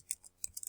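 Quick keystrokes on a computer keyboard while entering a search, a few soft clicks in short bursts, close and fairly quiet with no talking.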